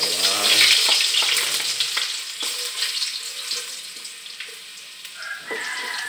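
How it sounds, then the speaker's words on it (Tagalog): Garlic sautés in a hot pan with a loud, dense sizzle that is strongest at first and settles gradually, broken by faint utensil scrapes and a brief watery hiss near the end. "gigisa natin itong bawang"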